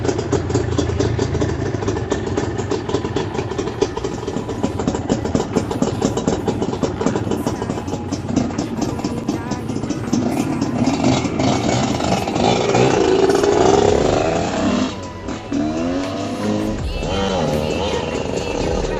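A Hengjian HJ 250 two-stroke motorcycle engine running on a test ride, a rough buzzing drone that holds steady, swells louder midway, then dips and picks back up.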